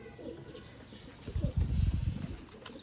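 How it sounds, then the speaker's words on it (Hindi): Sialkoti Zeera pigeons coo in a low, throaty burst that swells near the middle and end, close and moderately loud over a faint background hum. "ये पुराने दोस्तों सियालकोटी जीरे कबूतर हैं"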